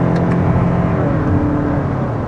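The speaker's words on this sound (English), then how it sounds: "You can definitely hear some of that engine noise, but not bad at all." 2024 Lexus NX350h hybrid engine revving as it accelerates through manual downshifts and upshifts, a steady loud droning hum heard from inside the cabin with no talking.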